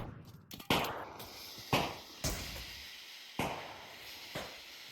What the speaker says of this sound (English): Oh, that nade. Nade does no damage, unfortunately.